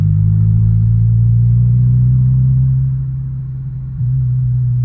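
An Acura RSX with a five-speed manual drones steadily from inside the cabin, a low loud engine hum that dips briefly as if shifting, then resumes.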